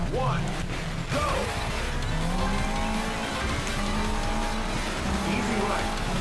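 A race car roars continuously in Sega Rally on Xbox 360, its engine loud and close with repeated tire squeals and skids as it corners.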